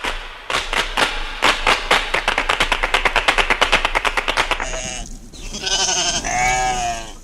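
A sheep bleat used as a sound effect in a Romanian radio comedy of Don Quixote, following a loud, rapid burst of rhythmic clatter like gunfire; the bleats come at the end, close and clear, with no talk.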